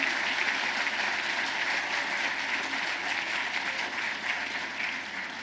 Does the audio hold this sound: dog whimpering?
no